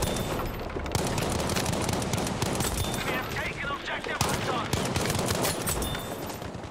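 Rapid, dense gunfire in a Battlefield-style PC shooter, with a shotgun among the weapons: continuous loud bursts and booms of battle noise packed together throughout, no quiet gaps.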